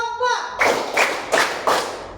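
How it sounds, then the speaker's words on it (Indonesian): Students in a junior high school volleyball physical education class clap their hands in unison, four sharp, evenly spaced claps following a spoken instruction, close and loud. "Tepuk tangan 4."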